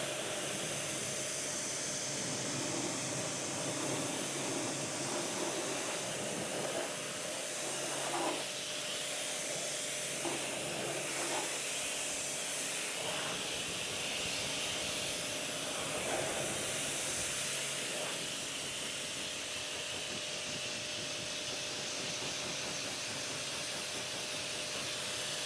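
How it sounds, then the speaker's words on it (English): A water spray rinses the engine bay of a VW Lupo GTI, a long, steady broadband hiss with faint intermittent splatter, moderately close and even in level throughout. "We'll give this one more round of rinsing and we'll see where we're at."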